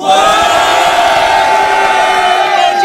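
A loud crowd at a rap battle event roars and shouts steadily, a dense wall of voices cheering close by without pause.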